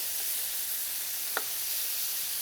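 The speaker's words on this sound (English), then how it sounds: "Meat is browning nicely here." Beef fillet browning in a hot pan gives a steady, soft sizzle that carries through the whole stretch, broken once by a single short sharp tick.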